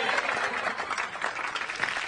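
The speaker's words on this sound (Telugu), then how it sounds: "క్లాప్స్." A television dance show audience breaks into steady applause, a dense, fairly faint clatter of many hands, with a voice heard speaking.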